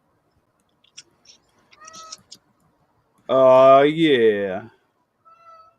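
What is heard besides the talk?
cat meowing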